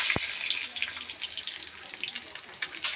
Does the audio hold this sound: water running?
yes